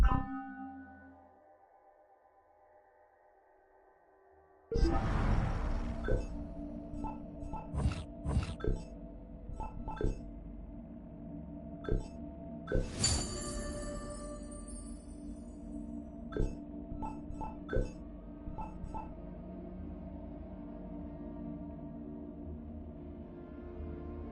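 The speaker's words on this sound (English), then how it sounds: "I'm sorry about all this noise. There's a waterfall of signal distortion." Radio signal distortion in the game Assassin's Creed Unity bursts in after a quiet moment as harsh crackling static, with sharp repeated spikes of noise over a steady electronic hum.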